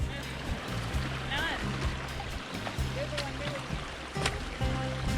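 Water of a stream rushing down a woodland waterfall, a continuous close splashing roar under someone talking, with low rumbles and brief bird chirps mixed in.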